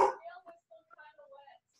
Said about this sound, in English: Can you guys hear my dog?